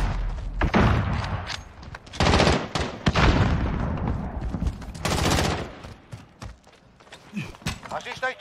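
Bursts of automatic gunfire from the Call of Duty video game come in rapid clusters with thuds and explosions, while players shout urgently in Portuguese.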